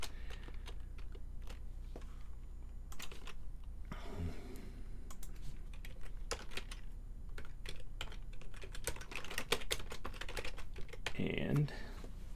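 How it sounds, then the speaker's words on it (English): Fast bursts of keystrokes on a computer keyboard during PHP coding, sharp close clicks coming in uneven runs with someone speaking between them. "I can type, seriously."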